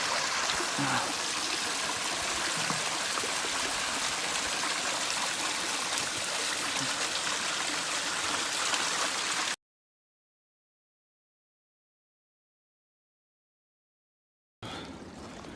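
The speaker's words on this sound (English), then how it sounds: "There's some water flowing here" Stream water flowing along the Ouachita Trail after storms, a steady broadband rush and trickle, fairly loud and close, cutting to silence partway through before resuming.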